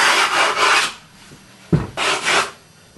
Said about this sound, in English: Take the awl, and you're going to scratch a line into it.